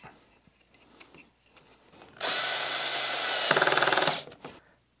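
A power drill driving screws to assemble a wooden dovetail router jig of comb, square and beam, one loud steady whir of about two seconds that ramps down at the end, preceded by faint workshop handling noises.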